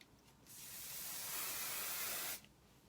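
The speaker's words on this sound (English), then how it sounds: "I feel like I want to spray just a tad bit in here." A single continuous aerosol spray hisses for about two seconds, close and steady, then cuts off.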